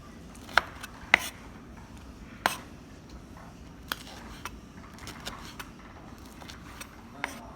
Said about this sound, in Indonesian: Ini diiris panjang-panjang kayak gini.